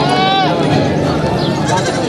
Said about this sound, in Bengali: কাকা অনেকগুলো ছাগল নিয়ে আসছে।